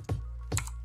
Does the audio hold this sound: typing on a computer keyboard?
yes